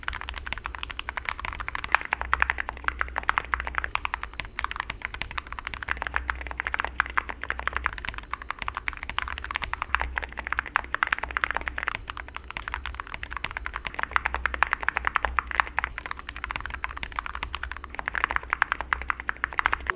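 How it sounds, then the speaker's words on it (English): Steady, continuous typing on Epomaker Tide75 and Monsgeek M1V3 keyboards fitted with lubed Gateron Milky Pro Yellow switches and ceramic keycaps: a dense, even patter of close keystrokes, fairly muted, with no talking. "Both boards will be using the lubed Gateron Milky Pro Yellow switches, as well as Syracuse ceramic keycaps."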